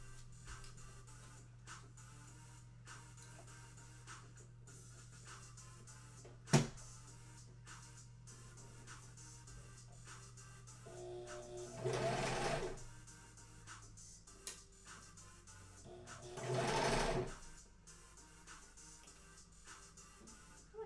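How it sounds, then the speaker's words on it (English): Sewing machine stitching an Among Us plushie: faint background hum with a sharp click, then two short bursts of machine stitching a few seconds apart, fairly quiet and with no talking. "let's sew this little one"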